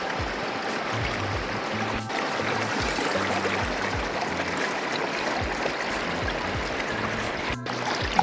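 Water is pumped through a gold mining sluice box outdoors as a steady loud rushing flow, with a low motor hum running underneath throughout.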